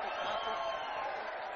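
A crowd at a public hearing applauds and cheers, a dense even wash of clapping and voices held at moderate level throughout the brief moment.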